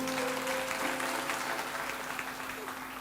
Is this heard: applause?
yes